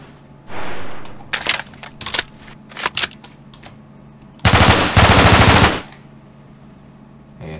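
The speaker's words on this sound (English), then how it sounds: "They even shoot bullets. Let's open fire." Gunfire from guns in the Garry's Mod video game: a sustained rattle of rapid shots, then several short bursts, then a long, loud, dense volley close up, with no talking.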